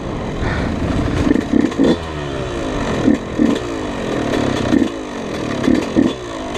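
A Yamaha YZ 125 dirt bike with a slightly slipping clutch revs repeatedly, its two-stroke engine rising and falling in loud, close bursts several times over a steady idle.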